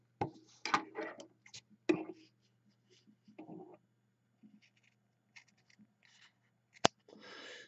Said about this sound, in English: I'm going to cut some strips off it